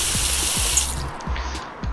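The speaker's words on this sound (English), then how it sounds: "Fill it up with a bit of water." Water runs steadily from a tap into a pan in Cooking Simulator, a close, continuous spraying gush with no voices.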